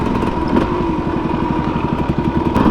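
A Honda CR250R two-stroke dirt bike is ridden on a road, its engine running loud and close with a steady, rapid, buzzy rattle throughout.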